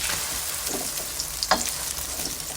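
A Thai omelette with naem sausage and basil leaves fries in a pan, giving a steady close sizzle with a few brief scraping stir sounds.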